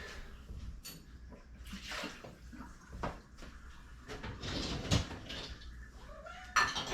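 A loud house cat meows a few times, close by, among faint kitchen clatter and water at a sink.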